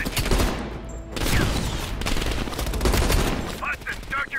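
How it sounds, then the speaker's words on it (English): Heavy machine gun fire in the Call of Duty Black Ops Cold War video game, a dense, continuous volley of loud gunshots and bursts with shouted voices mixed into the chaotic battle noise. "Heavy MG on the ridge!"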